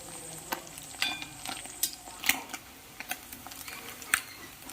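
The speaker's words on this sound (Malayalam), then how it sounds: "ബാക്കിയുള്ള മീൻ ഇതുപോലെ വറുത്തെടുക്കാം" Sardine fish fry with green peppercorns crackling in a pan: a steady, soft sizzle broken by frequent sharp pops and spatters, close up and with no voices.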